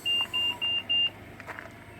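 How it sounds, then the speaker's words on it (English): A small city car's warning chime sounds four evenly spaced, clear electronic beeps, loud and close inside the cabin, then leaves only a faint background hum. "It's beeping again."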